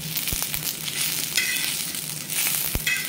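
Garlic and a small peeled onion roast in hot masala in a pan for misal, with a soft continuous sizzle and a few sharp clicks and scrapes of stirring, close and fairly quiet, with no talking.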